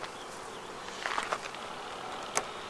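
Blue bees around a double-stacked flow hive, a soft continuous buzzing with a few louder passes close by.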